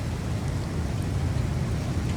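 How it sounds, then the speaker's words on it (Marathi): Heavy rain pours down during a storm in Dubai, a dense, steady roar of water that holds constant throughout with no voices. "खूप जोराचा पाऊस आहे"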